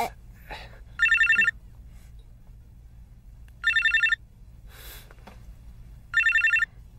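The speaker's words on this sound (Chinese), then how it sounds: "杨康，我可告诉你啊，如果是他来的电话，不许理他。" A telephone rings in three clear, loud electronic bursts spaced a couple of seconds apart in a quiet indoor drama scene, with faint breaths and small movements between rings.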